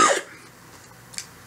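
A boxing commentator gives a single sharp cough at the start, close to the microphone, then near silence with a faint short sound afterward.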